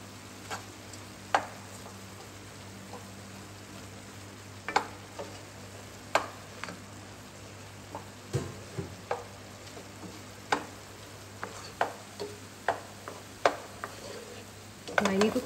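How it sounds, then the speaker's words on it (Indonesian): Spices sautéed in a pan until all the water cooks off, for a chicken pastel filling, give a soft steady sizzle broken by sharp spatula scrapes and taps against the pan, with no talking. "ini tuh kalian tumis sampai kering ya, nggak ada sisa air lagi tuh"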